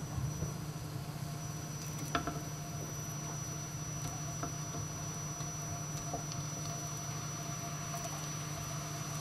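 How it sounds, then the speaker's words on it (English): Steady sizzling of spinach balls frying in hot oil, with occasional light clicks and taps, close up and without speech. "The spinach balls are nicely being fried now."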